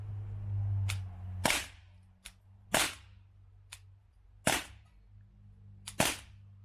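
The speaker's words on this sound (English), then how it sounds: "We're going to try 6 shots center target from a bit closer, 20 feet." A TR50/HDR50 pistol fires six shots at a target from 20 feet away: sharp, loud cracks come one at a time at irregular gaps of about one second, each fading quickly, with a low hum between them.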